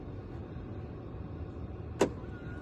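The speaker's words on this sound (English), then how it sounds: "I have to unlock the car on the app, look. Unlock car. And the handle should pop out" A brief mechanical click-whir as a car door handle pops out after the car is unlocked by phone app, one short sharp sound over quiet background hum.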